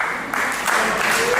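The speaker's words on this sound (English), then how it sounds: "Would you like to clap?" An audience at a school cultural day event breaks into applause, a broad, busy rush of clapping that swells partway through and stays loud to the end.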